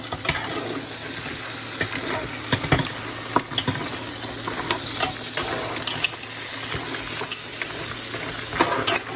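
Seafood boil ingredients sizzle and crackle in a pan while being stirred, with scraping and clattering spikes over a steady frying hiss.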